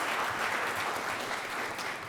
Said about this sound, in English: If you can give them a round of applause.